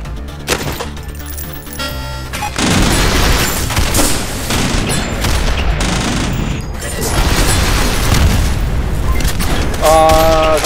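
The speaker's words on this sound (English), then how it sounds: "That was a lot of airstrikes coming in on us." Booming airstrike explosions and bursts of gunfire from the top-down shooter Synthetik, loud and dense almost throughout, with a brief quieter start before continuous rumbling blasts and rapid shots.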